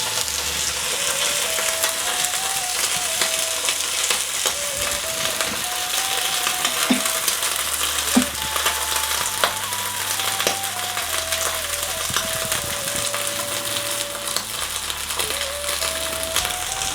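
Fish fries in hot oil in a pan, giving a constant bright sizzling hiss with occasional pops, heard beneath background music.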